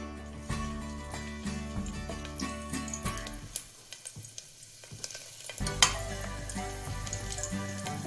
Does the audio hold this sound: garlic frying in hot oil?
yes